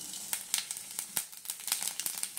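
Five-spice seeds sizzling in hot white oil in a wok, a close, soft crackle of irregular pops and spits over a steady frying hiss.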